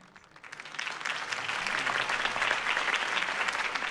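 Applause from a crowd in the Batman Telltale game swells up quickly and holds as dense, steady clapping, fairly loud and without voices.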